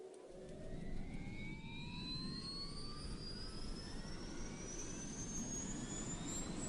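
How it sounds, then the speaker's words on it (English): A video-game jet taking off makes a continuous engine roar, with whining tones that rise steadily in pitch as it accelerates. The roar is loud and sustained throughout, and no one speaks. "You are cleared for takeoff."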